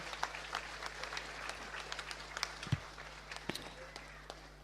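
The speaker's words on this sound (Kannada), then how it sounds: "ನಾವೆಲ್ಲ ಒಂದು ಬಾರಿ ಚಪ್ಪಾಳೆ ಮೂಲಕ ಧನ್ಯವಾದಗಳನ್ನು ಅರ್ಪಿಸುತ್ತೇವೆ" Scattered, faint clapping from an audience thanking the organising committee at a lecture event, sparse claps under a quiet room tone with some voice present.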